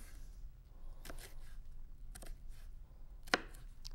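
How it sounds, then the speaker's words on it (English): Red pepper being diced with a French knife on a cutting board, a few faint, scattered knife taps and scrapes against low room noise, with a sharper tap near the end and no speech. "I like to dice my red pepper"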